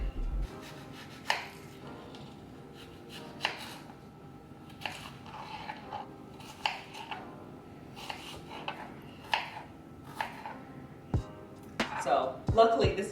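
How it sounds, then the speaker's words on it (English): A knife dices a small peeled red onion on a cutting board, with sparse crisp chops at irregular intervals followed by a quicker cluster of cuts, fairly quiet, as a voice talks throughout. "I've peeled our red onion. I'm going to dice this first."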